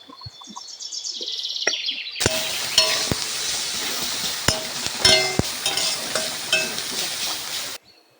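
Onions fry with turmeric and salt, bursting into a loud sizzle after a quieter opening with faint bird calls, while a spoon clinks and stirs through the pan before the sound cuts off abruptly.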